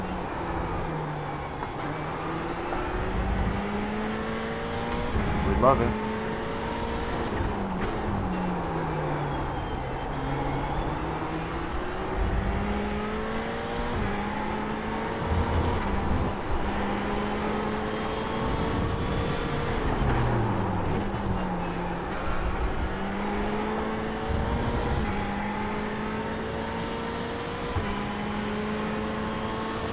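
An F1 car engine in a racing video game whines and climbs through gears in repeated rising sweeps, downshifting into corners, steady and fairly loud, with a brief spoken remark over it.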